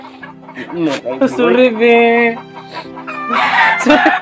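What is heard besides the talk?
chicken clucking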